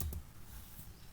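A few faint, quick keyboard taps click in the quiet, spaced briefly apart.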